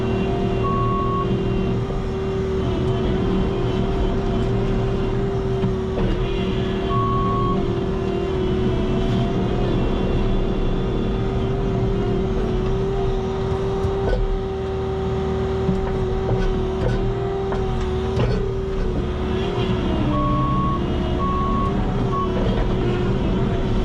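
A Bobcat skid steer working a gravel parking lot, a loud continuous diesel engine drone with shifting revs, scraping rumble and intermittent reversing beeps.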